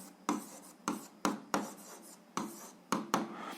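Handwriting during a 7th-grade algebra exercise: a pen or chalk scratching out a solution in seven quick separate strokes, close and dry, with short pauses between them.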